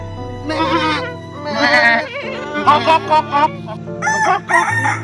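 Goats and chickens calling out in a row of loud, close cries, a rooster crow mixed with wavering bleats over a sustained low musical tone, each call a second or so long.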